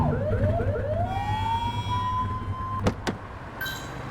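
A police car siren in The Precinct video game winds up from a low growl into a rising wail that holds steady, then cuts off abruptly, followed by a couple of sharp clicks.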